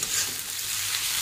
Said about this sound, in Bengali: এখন দিয়ে দিই সিদ্ধ করা মাছের ডিম। ভালো করে ভেজে নিই।